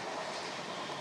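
A Dahanu local train runs along the line with a low, steady rumble and faint wheel noise, heard quietly and briefly with no voices.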